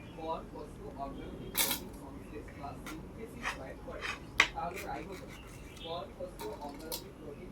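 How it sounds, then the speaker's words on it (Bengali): A knife chops peeled mango into small pieces in a few sharp, irregular clicks and taps against a board, under a steady murmur of background voices. "এইভাবে কুচি কুচি করে কেটে নেব।"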